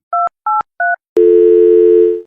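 Three short, clean telephone keypad tones beep in an even rhythm, followed by a steady, loud dial tone that holds for about a second before cutting off.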